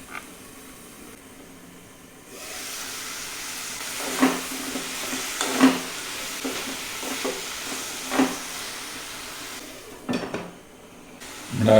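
Tamarind water goes into a simmering roasted-coconut drumstick theeyal in a pot, followed by a spoon stirring and scraping in irregular clinks over a low sizzle. The pot sounds near, with no talking.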